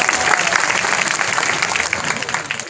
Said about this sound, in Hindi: बजाओ ताली इस बात पे।